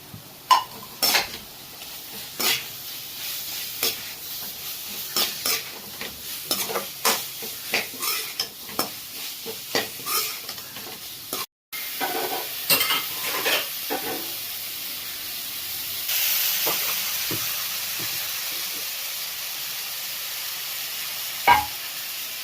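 Gravy is stir-fried with fried cauliflower and a dash of soy sauce in a pan, steady sizzling under repeated scraping and clinking strokes of a spatula, with a short pause midway and a louder steady sizzle afterward.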